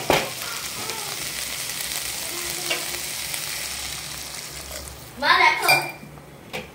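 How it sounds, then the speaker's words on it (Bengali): Continuous sizzle of banana flower frying in a pan, close up, with a brief burst of clattering utensil stirring near the end. "এটা হচ্ছে একটু ভাজা ভাজা করে নিয়েছি"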